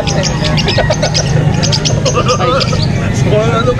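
Pet birds at a pet market in Angeles City chirp in busy, overlapping bursts of short high tweets over a loud background hubbub of crowd noise, with chattering people nearby.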